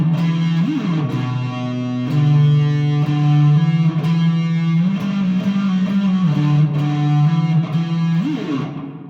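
Distorted electric guitar plays a riff alone, heavy sustained chords sliding up and down in a slow, chugging rhythm, loud and close.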